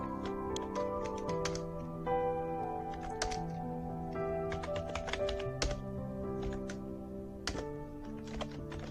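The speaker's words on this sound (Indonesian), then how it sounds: "maka instruksinya kita ketikkan" Commands being typed on a computer keyboard while setting up an Ubuntu Linux web server in VirtualBox: steady, close keystroke clicks in irregular bursts over a constant low background hum.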